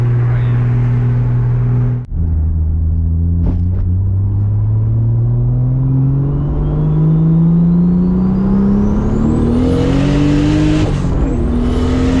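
A Toyota Supra MKIV engine pulls hard under acceleration, its pitch climbing steadily, with a brief dip for a quick gear shift early on before it rises again, loud and close from inside the car.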